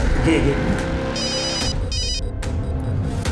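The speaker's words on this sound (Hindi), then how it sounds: "अगं मोबाईलची रिंग वाजते, बघ जा कोणाचा फोन आहे बघ" A mobile phone rings with a repeating electronic tone, heard under a steady background of talk and room noise.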